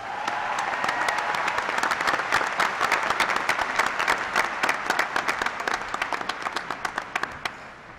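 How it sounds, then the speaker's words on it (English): A commencement crowd gives a steady round of applause for associate degree graduates at a university spring ceremony, dense clapping that continues evenly for several seconds before tapering off near the end. "Can you give them a round of applause?"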